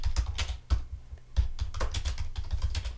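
Quick, uneven clatter of a computer keyboard being typed on up close, with irregular bursts of keystrokes and short pauses, no talk.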